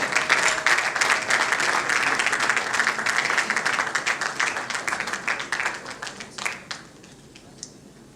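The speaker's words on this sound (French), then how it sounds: "Pendant qu'ils rentrent, on peut les accompagner par des acclamations." A gospel event audience claps as a group enters, with thick, continuous applause that gradually thins into scattered individual claps and fades out over about eight seconds.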